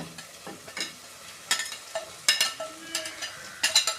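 Previously fried soya chunks being stirred in a pan for soya chilli, with repeated scraping strokes of a spoon over a soft sizzle, close and fairly quiet.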